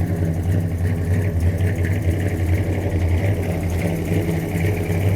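A long-forgotten Dodge Monaco engine runs at its first start in years, a steady loud idle with a rough, throbbing rumble up close.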